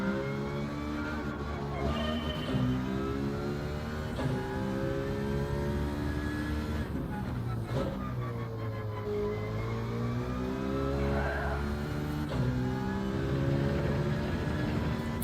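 A Mazda Atenza Gr.4 race car engine in Gran Turismo 7 at Fuji drones steadily with rising and falling pitch as it revs through gear changes, continuous and fairly prominent throughout.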